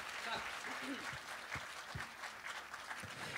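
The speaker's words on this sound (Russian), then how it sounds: "Аплодисменты. Браво!" Audience applause at the opening concert of an international festival of singer-songwriter music and poetry. Steady clapping fills the hall, with scattered voices and an occasional shout over it.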